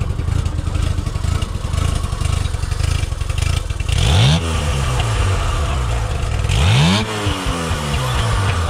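A crowd of classic motorcycles idling and running together at a local club meet, with a steady loud engine rumble and two sharp revs rising and falling, close by with no talk.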